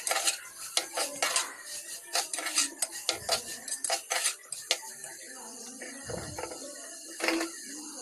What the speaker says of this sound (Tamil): நறுக்கி வச்ச காய்கறி போடுறேன். போட்டு அதையும் நல்லா வதக்கி விடுறேன்.